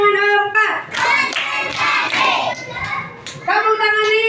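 A group claps in a counted rhythm during a university performance review session, short bursts of hand claps under a leading voice, pausing briefly before another burst starts near the end.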